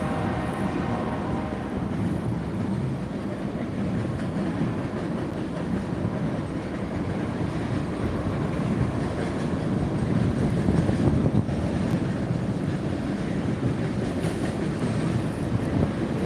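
A train rumbles past nearby at the Blackfoot and Clark Fork river convergence in a steady, loud low roar with faint rhythmic clatter of wheels on the track, continuing throughout without voices.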